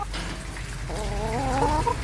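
Chickens cluck and murmur close by in a steady stream of short, throaty calls, rising into a higher, drawn-out call near the end.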